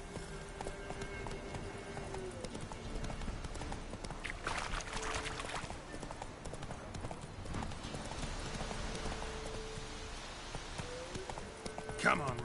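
In the video game Witcher 3, the hooves of Geralt's horse Roach clip-clop in a steady trotting rhythm at moderate distance over soft background ambience, with a few louder hoof strikes near the end.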